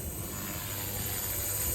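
Blade 230 RC helicopter coming in to land, its rotor and motor whine heard as a loud, steady whirring hum close by with no talking over it.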